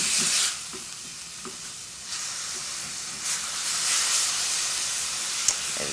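Turkey tikka masala curry frying in a pan gives a steady, fairly loud sizzle with bursts of hiss and stirring scrapes, no voices over it.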